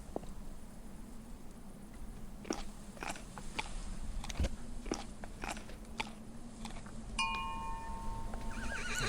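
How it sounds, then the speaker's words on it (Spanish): A horse in the video game Burnhouse Lane crunches on carrots, with a string of sharp, separate bites over a steady low background hum and a brief chime near the end. "Alimenta el caballo."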